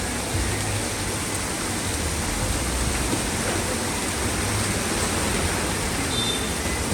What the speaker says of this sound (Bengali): বৃষ্টি হচ্ছে অনেক।